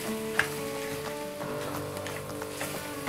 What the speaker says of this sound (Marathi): आता हे सगळं छान आपण परतून घ्यायचं.